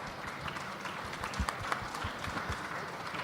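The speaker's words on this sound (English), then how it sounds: "Ladies and gentlemen, a round of applause for our rock stars." Audience applause for the speakers at an SEO rock star panel event: a dense, steady wash of clapping from a crowd, holding at an even level throughout with a few sharper claps standing out.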